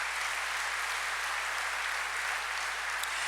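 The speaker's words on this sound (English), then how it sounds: "I really give her a round of applause," An audience gives Dr. Cruzado a round of applause after a speech, a dense, even wash of clapping heard steadily with no talk over it.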